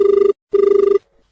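Two loud bursts of a telephone bell ringing with an incoming call to a rural farming radio phone-in programme, each a rapid trilling ring, separated by a short pause.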